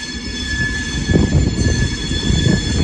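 British Rail Class 380 electric unit 380001 screeches as it brakes into Glasgow Central High Level station. Steady high-pitched wheel squeal rings over a loud rumbling roll, close and continuous, with no talking.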